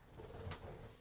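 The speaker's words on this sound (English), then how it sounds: "She loves tweeting in the morning and waking us up" A pet bird gives a soft, brief coo-like call indoors, faint and close, heard alone over a quiet room.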